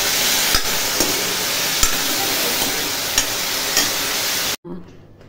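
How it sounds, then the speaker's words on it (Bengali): Potato curry being stirred in a pan, a loud, steady sizzle broken by sharp, regular spoon knocks against the pan for several seconds, then cut off abruptly to near silence. "নাড়াচাড়া করে ঢাকনা দেবো"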